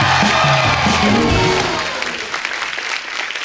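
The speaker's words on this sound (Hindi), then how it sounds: "जोरदार ताली हो जाए हमारे" Studio audience at a Hindi comedy show bursts into loud, dense applause mixed with cheering, strongest at the start and easing slightly while continuing steadily to the end.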